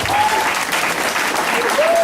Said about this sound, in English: And can we all give a round of applause for Mitch, please?